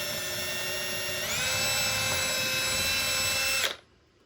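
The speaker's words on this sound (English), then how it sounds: "I'm going to drill a little hole" A power drill boring a small hole into a model railway module's front rail, a steady high motor whine that rises in pitch as it bites, holds for a couple of seconds, then cuts off abruptly.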